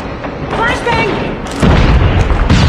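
A flashbang grenade bursts in Call of Duty Mobile multiplayer, a loud boom arriving partway through amid voice callouts and battle noise.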